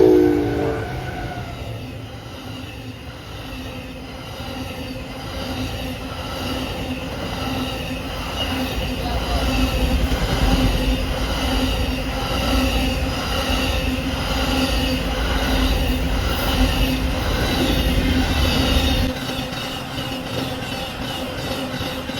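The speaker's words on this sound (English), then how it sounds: "here comes Amtrak PO53 once again with the Charger Duo" An Amtrak P053 passenger train hauled by two Charger locomotives rolls past at Folkston, Georgia, with a loud, continuous rumble and rhythmic clatter of wheels over rail joints, plus a high squeal, before it fades slightly at the end.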